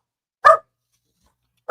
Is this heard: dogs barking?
yes